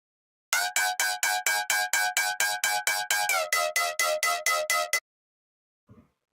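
A stereo-widened synth bass patch built in iOZ for brostep or basshouse pulses in a rapid, even stream of buzzy, bright stabs for about four and a half seconds, with a slight pitch drop midway, then cuts off, leaving a brief faint blip.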